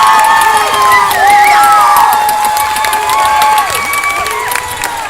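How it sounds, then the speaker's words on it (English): A crowd at a high school boys basketball state semifinal cheers loudly after a score, with sustained roaring and shouting, high-pitched whoops and whistles, and scattered clapping throughout. "The crowd is loving it."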